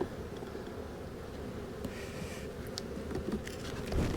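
Honey bees drone in a full hive box, a steady low hum with faint rustling above it, unbroken for the whole stretch with no voices.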